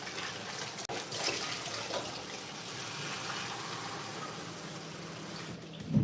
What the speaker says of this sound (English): And I need to rinse my hands